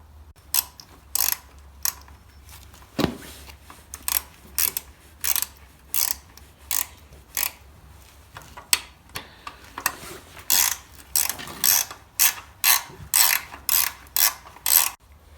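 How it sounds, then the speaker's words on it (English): Ratchet wrench clicking in repeated bursts while loosening oil-caked bolts at the base of a 1960 Bolens Ride-a-matic garden tractor, close and crisp with short pauses between strokes and no talk. "So what we're going to try and do is undo the bolts at the bottom, which are caked in oil but should turn."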